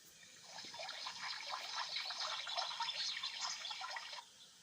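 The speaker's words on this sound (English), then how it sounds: "Let's water them so the flowers grow faster." Water splashes and trickles steadily onto freshly planted flowers beside a wooden hut, a soft continuous pour lasting a few seconds and then stopping, with no talking.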